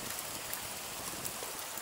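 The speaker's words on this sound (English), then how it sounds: "It's because it's raining" Steady rain falls outdoors on a cold day, a dense broadband hiss of drops hitting surfaces that holds constant for the whole stretch, with no voices over it.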